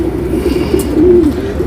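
Pigeons coo close by, a loud low rolling call repeated in a steady rhythm.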